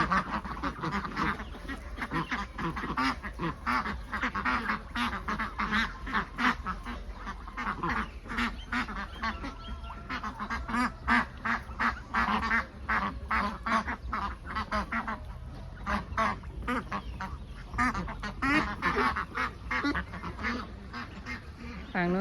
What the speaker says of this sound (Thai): ก็เป็ดกากีแคมเบล สองสายพันธุ์ก็เลี้ยงติดกันเลยนะคะ